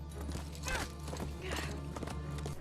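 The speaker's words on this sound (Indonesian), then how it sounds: "Sementara itu, Kelly berpacu di jalan dengan menggunakan kuda untuk menemukan Connie sendirian." A horse gallops along a road in The Walking Dead, its hoofbeats soft and somewhat muffled under a constant low rumble of background noise.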